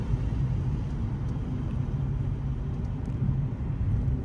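Highway traffic rumbles steadily from inside a vehicle driving along the road, a continuous low roar of engine and tyre noise with no break.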